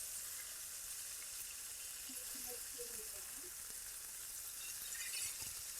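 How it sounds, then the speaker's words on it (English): Cube steaks fry in a hot pan with a steady, low sizzle that holds evenly throughout. The sound is faint and constant, with no talking over it. "when they're sizzling, be sure to flip them over."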